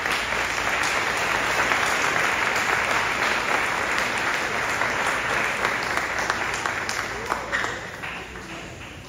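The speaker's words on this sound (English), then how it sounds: "please join me in applauding their accomplishments" An audience applauds students at a fifth grade celebration, sustained even clapping across the hall that holds steady and gradually thins toward the end.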